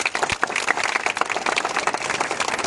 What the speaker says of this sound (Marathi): मनापासून खरंच मी जोरदार टाळ्या वाजतो